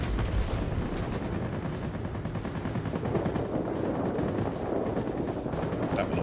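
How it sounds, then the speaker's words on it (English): Aircraft guns in the World of Warplanes video game, a Japanese Navy Air Force plane strafing a ground target, rattling in a continuous rapid burst over heavy engine drone, loud and close with no speech. "I'm going to use the guns for this"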